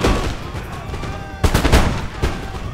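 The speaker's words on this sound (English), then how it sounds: "So he's now firing at me with these riflemen." Riflemen unit volleys of musket fire in the Empire Total War video game, with bursts of crackling gunshots over a continuous battlefield din, one heavier cluster midway and another shortly after.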